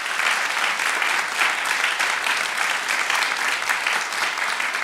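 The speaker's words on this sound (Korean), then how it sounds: "여러분 큰 박수로 한번 환영해 주시면 감사하겠습니다" A church congregation at Hanbit Church's Sunday third service applauds. The dense, even applause holds at the same loudness for the whole stretch, with no speech over it.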